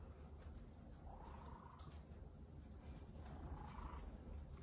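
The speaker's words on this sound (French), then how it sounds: "il y a un drôle de ronron" A cat purrs with an odd, rumbling quality, low and faint but continuous, with two brief higher warbling swells in the purr and no talking.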